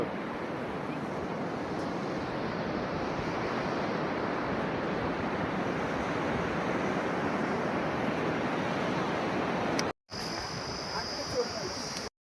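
Continuous broadband roar of surf and wind on the beach at Henry Island, Bakkhali, steady and fairly loud throughout, with a brief cut near the end.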